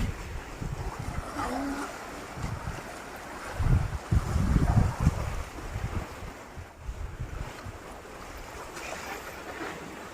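Cool wind blows outdoors and buffets the microphone in uneven gusts, giving a rushing, rumbling noise that swells strongly in the middle and then eases off, with no talking.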